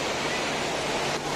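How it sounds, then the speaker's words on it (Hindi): A waterfall at Barwasagar lake in the evening, a loud, dense, continuous rush of falling water that fills the whole scene with steady noise. "ए ननू, ये हम लोग आ गए हैं झरना घूमने के लिए"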